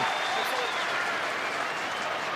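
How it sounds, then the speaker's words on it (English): A Hawthorn home crowd at a 2008 AFL match against Port Adelaide claps and cheers in appreciation, a dense, steady roar of applause filling the stadium throughout, with a commentator's voice mixed in. "the Hawthorn crowd appreciative of the defensive effort by the very tough Campbell Brown"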